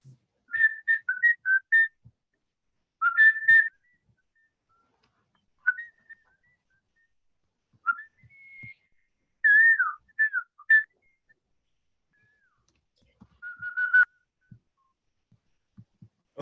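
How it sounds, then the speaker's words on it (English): A person whistles a short melody alone in a quiet room, the phrases clear and fairly soft and broken by pauses. "close your eyes and I will whistle for you"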